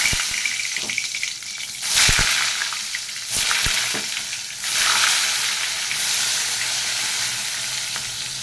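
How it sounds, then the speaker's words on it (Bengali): Pieces of pointed gourd (potol) fry in hot oil for a spicy potol jhal, making a loud, continuous crackling sizzle that swells in bursts as the pieces are turned, with no voices. "পটলের ঝালটা করার জন্য সবার আগে আমি পটলগুলোকে ভেজে নিচ্ছি ভালো করে।"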